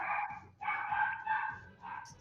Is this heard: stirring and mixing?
no